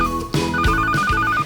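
A telephone rings for an emergency call, a short electronic trilling tone that repeats steadily over a low rumble, fairly loud and alone with no talk.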